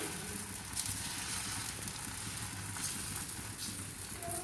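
Ragi dosa batter sizzles on a hot pan, a steady, faint crackling hiss without talk.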